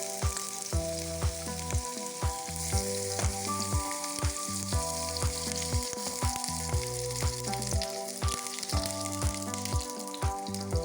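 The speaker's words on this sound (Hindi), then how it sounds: "अब इसमें मैं ये बैंगन के स्लाइसेस डाल दूँगी। आपने आगे पीछे से पलट के इसको थोड़ा सा फ्राई कर लें।" Eggplant slices frying in oil in a pan, a dense, steady sizzle running throughout with louder crackles, alongside a repeating tonal musical pattern.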